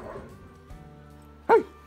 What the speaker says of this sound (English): You cute dog, you cute boy.